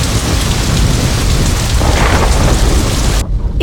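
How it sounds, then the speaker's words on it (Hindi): Heavy rain pours steadily with a deep thunder rumble underneath, loud and close, cutting off abruptly near the end. "हे भगवान, लगता है बारिश होने वाली है।"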